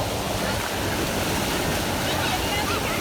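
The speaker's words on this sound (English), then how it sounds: "they do a bunch of different kinds of waves here" Wave pool at a new waterpark churns with a continuous broadband wash of surf and splashing water, loud and steady throughout with no distinct voices.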